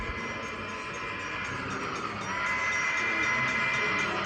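A steady rumbling clatter of a model train running on a large layout, with a hissing whine and a faint whistle-like tone, rising slightly partway through.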